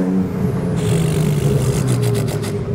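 A McLaren 720S widebody sports car engine produces a loud, close, sustained droning roar with a throaty tonal growl that shifts slightly in pitch, ending in a few quick rhythmic bursts.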